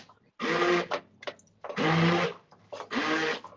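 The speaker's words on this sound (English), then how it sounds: "Oh my God, it's actually working, my soup maker. Oh, perfect. That's called an immersion blender." Immersion blender whirring in bursts while soup is being made, three loud sustained runs separated by short pauses, close by and alone.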